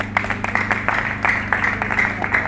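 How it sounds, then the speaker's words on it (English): An audience at an event against child trafficking claps in steady, moderate applause, many hands close together and evenly dense throughout. "let's give her a round of applause once again"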